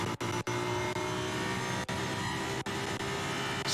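A GT race car accelerating hard out of the pit lane during qualifying for the 24-hour race at the Nürburgring, a loud sustained engine note with several sharp dips like gearshifts or lifts.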